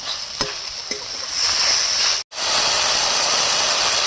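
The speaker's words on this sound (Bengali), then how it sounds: "এবার মশলার সাথে ভালো করে টমেটোটা মিশিয়ে দেওয়া হচ্ছে" Tomato being stirred into frying spices in a pan, a steady loud sizzle and hiss with a few scraping stir strokes early on and a brief cut of silence midway.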